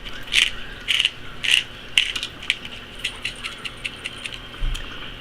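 A pepper grinder works in a home kitchen, giving close, rhythmic ratcheting crunches in short bursts, each one grinding peppercorns, with no talking over it.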